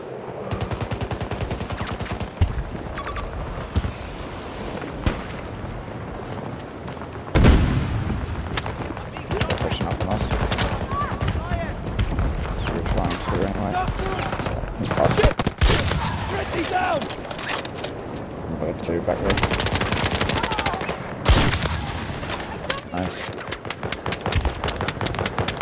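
Call of Duty gunfire rattles almost constantly in rapid automatic volleys and single cracks, with a few heavier booms, while a player talks over the continuous battle noise.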